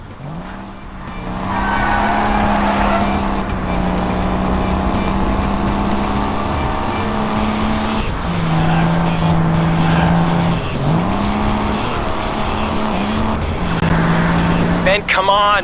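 A car in the video game Crash Time 5 drives with a loud, steady engine hum whose pitch shifts with gear changes, broken by several tire squeals, heard close and alone.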